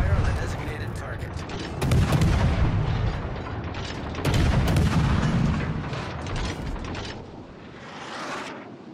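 Naval guns on a warship firing at a target in a video game. Heavy booms land in two main clusters over a mechanical rumble, then the fire fades toward the end.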